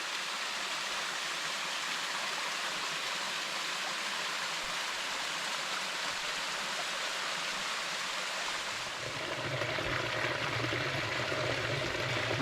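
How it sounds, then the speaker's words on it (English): Waterfall and stream in the Leatherwoods along the Overland Track, a steady close rush of falling water that thickens into a fuller, deeper roar near the end, with no voices. "Waterfall in the Leatherwoods."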